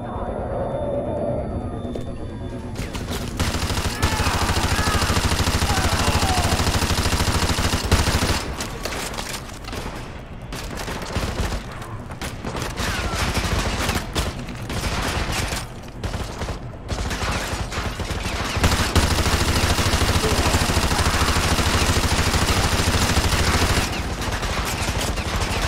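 Sustained gunfire from Call of Duty: Modern Warfare 2 Campaign Remastered, with dense automatic bursts and scattered single shots running almost the whole time, loud and close, with speech mixed in.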